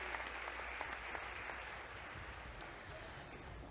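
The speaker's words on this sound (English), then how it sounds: "Let's give the ASEAN foreign ministers and heads of delegation a big round of applause" A hall full of delegates at the 2017 ASEAN Foreign Ministers Meeting gives a round of applause for the foreign ministers and heads of delegation. The clapping is fairly faint and distant, a steady wash lasting a few seconds with no talk.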